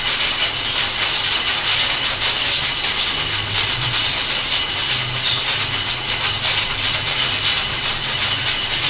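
A pressure cooker cooking chicken paya with water, releasing a loud, continuous, sharp hiss of steam that stays steady and close throughout.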